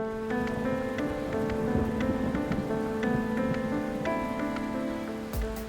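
Steady, heavy rain from a powerful 20th-century hurricane storm pours without a break, with a sustained tonal hum running underneath.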